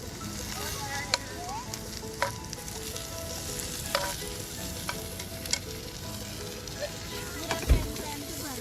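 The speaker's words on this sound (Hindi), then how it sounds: "इसमें हम थोड़ा टमाटर डाल देगा।" Tomatoes hit a hot frying pan for a shakshuka omelet cooked outdoors by a lake, giving a steady, close sizzle broken by occasional clinks and stirring scrapes.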